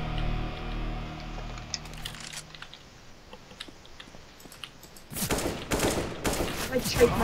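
Gunfire from the video game CS:GO: after a quieter stretch of scattered clicks and faint taps, a loud burst of rapid shots breaks out near the end, close and punchy.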